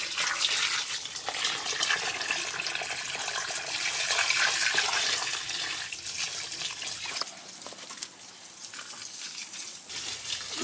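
Well water pours steadily onto the soil between pepper and eggplant plants in a mulched vegetable garden, a continuous close splashing rush that softens and thins toward the end.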